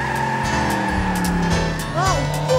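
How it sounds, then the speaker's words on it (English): The Armstrong 326 car tears away with tires squealing, a loud engine roar and rising screeching tones near the end, with a voice cutting in under the noise. "Now this is what I call a car."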